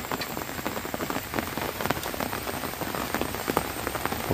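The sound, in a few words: rain falling in the morning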